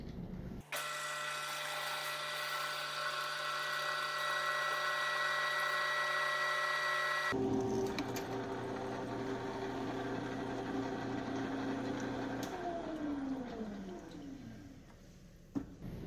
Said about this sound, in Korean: 일단 파이프를 눈금을 대략적으로 맞추어 놓고 깎아 보겠습니다.